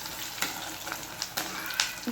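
Oil sizzles and crackles steadily as chilies fry on a low flame, with a few sharper pops and stirring scrapes standing out close by.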